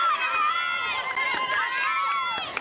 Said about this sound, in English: Crowd is going crazy now.